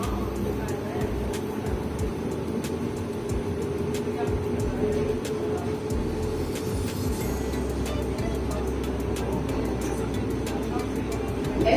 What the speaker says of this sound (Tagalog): El tren está partiendo.